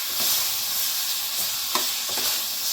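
Mutton fries in a pan for gongura mutton, a steady hissing sizzle with a few soft scrapes and clinks as it is stirred, no voices present.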